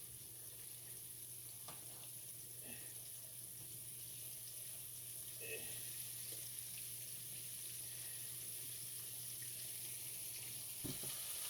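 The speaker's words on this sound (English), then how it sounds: "We're gonna let it fry on that side for a little bit longer." Liver frying in a pan for Southern liver and onions: a steady, fairly quiet sizzle and crackle that runs unbroken throughout, with a few small pops and spits and no talking.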